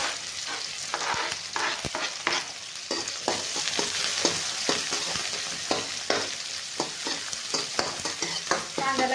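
Garlic cloves and onion sautéing in a pan for a potato and cauliflower curry, a steady close sizzle broken by frequent sharp scrapes and clinks of a spoon stirring, with no talking.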